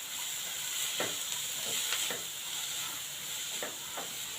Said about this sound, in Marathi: आता इथे गाजर, शिमला मिर्च आणि कोबी आपण बारीक चिरून घेतलेली आहे, हलकी परतून घ्यायचे।